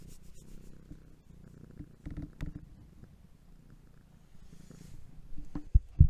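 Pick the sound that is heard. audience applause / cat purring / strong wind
cat purring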